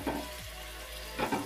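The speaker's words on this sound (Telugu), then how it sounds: "కొత్తిమీర వేసి కలపాలి." Mutton curry being stirred after mint and coriander go in gives a brief low bubbling sizzle, with two short scraping stirs at the start and end, close by and without speech.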